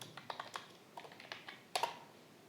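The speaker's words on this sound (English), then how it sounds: "See here, I just typing ASCII table here." Typing on a computer keyboard, with a quick run of light, close key clicks in an irregular rhythm, ending on a slightly louder keystroke, no voices.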